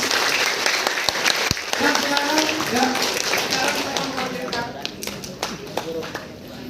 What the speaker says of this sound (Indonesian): Bisa tepuk tangan meriah Bapak Ibu yang ikhlas